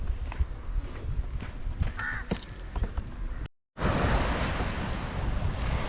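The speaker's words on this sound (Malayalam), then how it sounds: "തൊട്ട് പുറകെ കാണുന്ന കടലാണ് കേട്ടോ." Sea waves roll and wash steadily near Thottappally harbour in Kerala, a broad rushing surf with wind buffeting the microphone and a crow calling faintly; the sound cuts out briefly before the surge resumes.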